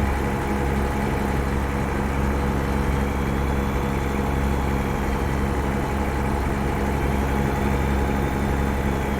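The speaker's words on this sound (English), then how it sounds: "had to go with our window down today, enjoy the sounds of the truck" A truck engine idles steadily in American Truck Simulator with the window down, a loud, unbroken low rumble with a constant mechanical hum and no talk over it.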